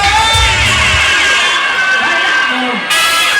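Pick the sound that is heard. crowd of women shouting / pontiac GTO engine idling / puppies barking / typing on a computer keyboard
crowd of women shouting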